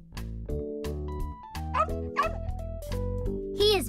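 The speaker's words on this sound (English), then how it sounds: "He is barking." A cartoon dog yips and barks in short bursts over a steady, cheerful musical backing, with a few quick high yelps near the end.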